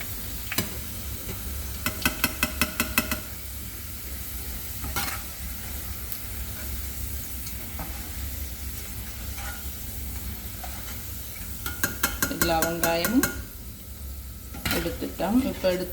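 Onions frying in a pan over lowered heat, a steady broadband sizzle running throughout with clinks of a utensil stirring against the pan at intervals, close and moderately loud, no talk.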